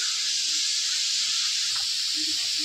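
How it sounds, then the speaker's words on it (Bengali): Raw onion frying in oil in a pan after mushrooms were fried, giving a steady, loud broadband sizzle and hiss that holds unchanged throughout with no talk. "এবার আমরা কাঁচা পেঁয়াজটাকে ভাজতে দিয়ে দিয়েছি।"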